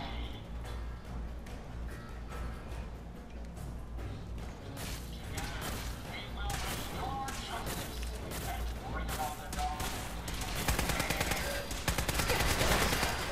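Gunfire in the Fallout 4 video game, with sporadic shots that build into denser, louder bursts toward the end, mixed with game mechanisms and a voice talking over it.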